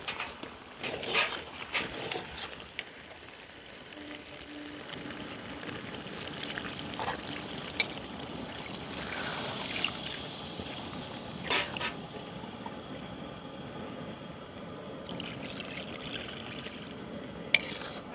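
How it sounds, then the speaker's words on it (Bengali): Water is poured into a pan of chicken curry, where the meat is cooking in oil. It makes a soft, steady trickle and splash that stays fairly quiet against low background noise, with a few faint clinks. "এবার আমি মাংসের মধ্যে জল দিয়ে দেবো পরিমাণ মতো"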